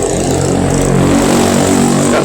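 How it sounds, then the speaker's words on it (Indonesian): A loud motor vehicle exhaust roars in a steady, close, continuous drone that fills the whole short stretch with no speech. "aduh suara knalpot ya, Yesus."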